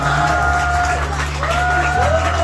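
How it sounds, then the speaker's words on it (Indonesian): Applause and cheering rise from a school audience for class 9C at a proclamation-reading contest, a mix of crowd noise and whoops over a low hum and sustained tones. "Sekali lagi beri tepuk tangan yang meriah."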